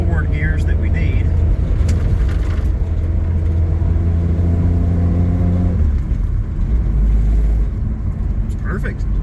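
An old Ford car with a newly replaced 3-speed manual transmission drives down the road. Its loud, steady engine drone drops and shifts as a gear changes midway, and a voice speaks over the noise.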